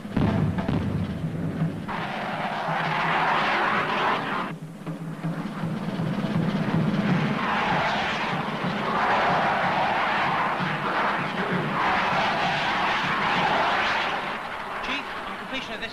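A Phantom jet aircraft roars continuously as it throttles back to join upwind, its loud engine rumble swelling and easing in broad waves over several seconds, with a voice speaking beneath the noise.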